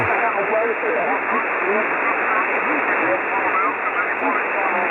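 Ham radio on the 20 meter band with stations calling CQ, heard as a steady hiss of band noise with faint, garbled voice transmissions mixed in at constant loudness.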